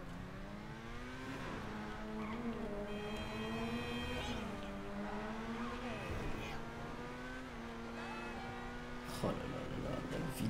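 A supercar engine in GTA V drones steadily with rising and falling pitch as it revs and shifts, heard close and continuous with game ambience around it and no one talking.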